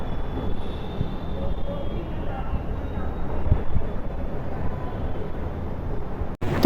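Metro station ambience on a trip toward Delhi, with a steady low rumble of a train running through the whole stretch and a sharp jolt near the end. Speech can be heard under the rumble.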